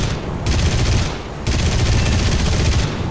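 Aircraft machine guns fire in War Thunder in long, loud, continuous bursts with brief breaks between them.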